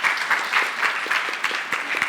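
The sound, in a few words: audience applause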